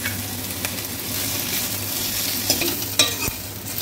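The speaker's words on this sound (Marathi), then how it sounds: "थोडं तेल टाकायचं आहे, म्हणजे कांदा पटकन फ्राय होतो।" Chopped onion fries in half a spoon of oil for a Maharashtrian kat vada masala, with a steady sizzle running throughout and a spatula stirring and scraping against the pan several times, close and clear.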